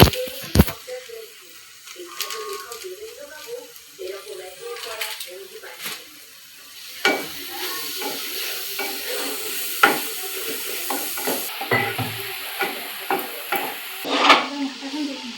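Spices and garam masala sautéed in a pan for aloo dum, a soft continuous sizzle under repeated scraping and stirring strokes of a spoon against the metal, with occasional clinks.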